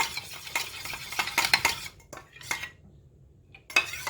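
A spoon stirs herbal hair oil in a steel vessel, making close, sharp metallic scrapes and clinks in irregular bursts with brief quiet gaps between them.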